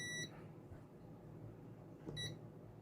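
A Sunshine DT-17N digital multimeter in resistance mode gives two short, high electronic beeps, one at the start and one near the end, over quiet room noise.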